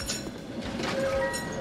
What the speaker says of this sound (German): Einfach vor die Straßenbahn gerannt.